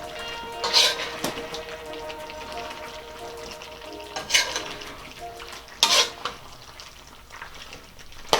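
A spoon clinks and scrapes against a pot of beef mechado being stirred, with a few sharp metallic knocks spaced seconds apart over a soft, steady background.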